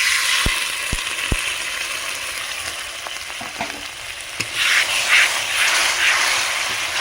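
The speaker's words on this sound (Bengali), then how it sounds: "ভালো করে মশলাটা আমি কষিয়ে নেব" Spiced masala frying in a pan for a chicken liver and gizzard curry, a loud continuous close sizzle with a few sharp ladle taps against the pan early on, no talking.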